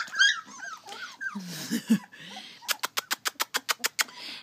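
Labrador puppies whimper and yip in high, wavering cries outdoors, followed by a rapid run of about ten sharp, evenly spaced yelps, close and fairly loud.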